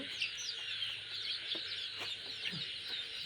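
Chickens cluck softly and intermittently while drinking from a pipe feeder, short calls scattered over a steady ambient background.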